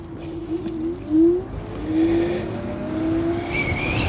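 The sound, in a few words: Inmotion RS Midnight Lite electric scooter accelerating on trail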